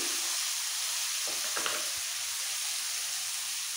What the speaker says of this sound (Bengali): এবার খুব ভালো করে গাজর আর বিনসটা ভাজতে হবে, যাতে একদম কাঁচা না থাকে।